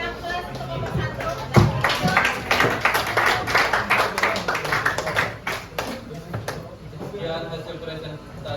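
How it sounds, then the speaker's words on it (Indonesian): Students in a high school classroom clap for a group that just finished its presentation, a dense burst of close hand claps that builds, then thins and fades over several seconds. "Oke, kita kasih aplaus untuk kelompok satu."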